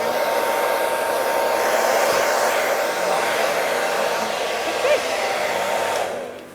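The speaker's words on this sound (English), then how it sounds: "just give it a quick blow over with the hairdryer" A hairdryer blows steadily to dry paint on a muslin scarf, a constant loud whooshing whir close by that holds for about six seconds before cutting off.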